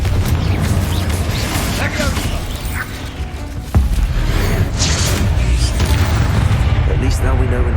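Confringo blasting spell exploding in Hogwarts Legacy, with a sharp burst cutting through dense, continuous game rumble and clatter; a voice may be present beneath the noise.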